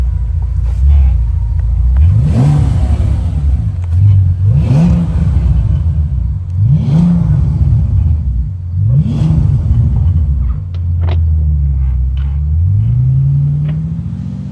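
A 2009 Bentley Continental GTC convertible with a twin-turbo W12 engine accelerates loudly in several repeated pulls, each rising roar dropping back between shifts, close and alone on a winding road.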